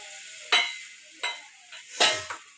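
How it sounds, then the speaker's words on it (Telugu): Cumin seeds frying in oil on a low flame for a tomato chutney, a soft steady sizzle broken by several sharp stirring scrapes and bursts of spluttering. "జీలకర్ర వేసుకొని సిమ్లో పెట్టుకొని వేయించుకోవాలి."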